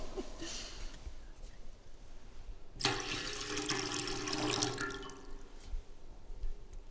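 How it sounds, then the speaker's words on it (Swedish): Water poured out in a Christian blessing ritual, starting as a sudden splashing rush that runs steadily for several seconds and then tapers into lighter trickles and drips, close and fairly loud, without talk. "Ska vi hälla vatten nu?"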